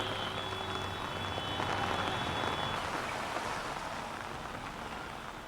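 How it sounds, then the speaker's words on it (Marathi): Steady heavy, unseasonal rain hisses continuously over a city street deep enough to submerge bus tyres, a dense even wash of noise with no talk. "दुपारी 3 वाजल्यापासून मुसळधार पाऊस पडतोय"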